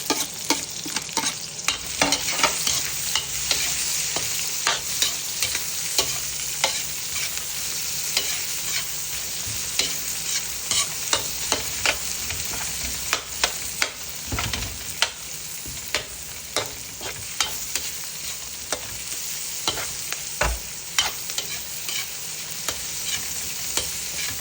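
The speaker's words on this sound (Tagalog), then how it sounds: "pag medyo na-fry na yung sibuyas, lagay na natin yung manok" Onions frying in a pan with chicken about to go in, a steady close sizzle broken by frequent scraping strokes of a spoon stirring throughout, no voices.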